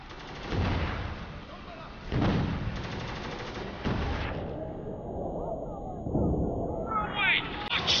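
Heavy gunfire from the video game Spec Ops: The Line, with repeated loud bursts and booming shots hitting close by in a combat scene, coming in waves with brief lulls between.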